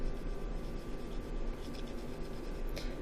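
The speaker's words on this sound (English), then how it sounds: "you can use the side of the pencil just to get a soft shadow here" Pencil shading on paper with the side of the lead laid flat, a soft, continuous close scratching and rubbing that stays quiet and steady from start to end.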